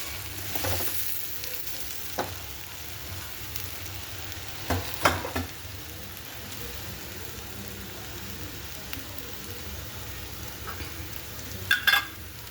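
Patra, colocasia leaf rolls with lemon juice squeezed over, sizzle softly in a pan. Occasional spatula scrapes and clinks come as they are stirred, with a few sharper knocks near the end.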